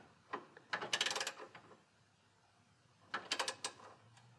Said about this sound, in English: Now I'm just using a wrench, and all I'm going to do is snug it at this point.